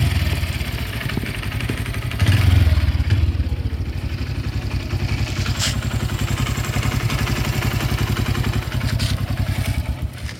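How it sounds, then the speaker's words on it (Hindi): A Honda Livo motorcycle engine idles steadily up close, a rapid even putter throughout, swelling briefly louder around the second and third seconds. "सो इस वाले इंजन का जो साउंड है वो मुझे काफ़ी ज़्यादा अच्छा लगा।"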